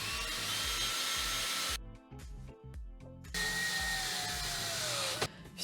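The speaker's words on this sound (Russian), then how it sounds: "нам нужно еще раз просверлить бруски для того, чтобы они легли ровно." A power drill bores holes through wooden bars for a cat bunk bed, whining loudly at high speed, pausing to slow and rev in stuttering bursts, then spinning up again before winding down.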